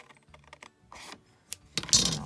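A few short crisp snips and rustles of scissors cutting through paper for an envelope, close up, with brief pauses between cuts.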